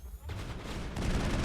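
Rapid gunfire erupts in the Mass Effect video game, a dense sustained burst of automatic shots that swells after a brief quiet opening and stays loud to the end.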